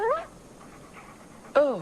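A long-haired dog named Buddy gives two short, high whimpers a second and a half apart, the first at the start and the second at the end, with a quiet stretch between.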